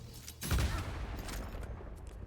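A booming shot fired in the video game Baldur's Gate III: one heavy, deep blast with a rumbling tail that trails off over about two seconds, with no speech.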